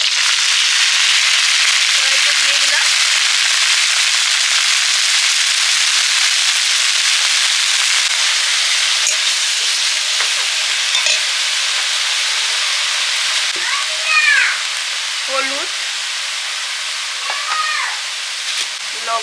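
Bottle gourd greens and green chillies hit a hot pan with nigella seeds and sizzle loudly and continuously, with the hiss easing slightly over time. Faint voice-like sounds surface briefly near the end.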